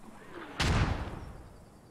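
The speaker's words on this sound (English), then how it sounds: "Mortars are very close." A mortar shell explodes nearby in the Post Scriptum video game, one loud, sharp blast whose rumble fades over about a second against quiet background noise.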